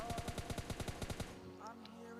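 Rapid automatic gunfire in the mobile game PUBG Lite, a fast burst of about ten evenly spaced shots that stops abruptly, followed by fainter game sounds.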